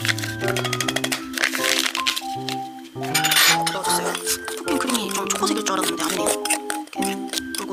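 Utensil clinking and scraping in a bowl as protein bar ingredients are stirred together, a run of close, bright taps and knocks over background music.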